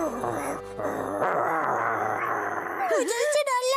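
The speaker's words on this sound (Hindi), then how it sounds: "गुर्राना बंद करो।" A cartoon dog growls and whimpers in a Hindi Doraemon cartoon, a wavering rumbling growl that rises into whiny yelps, close and loud, mixed with other cartoon sounds.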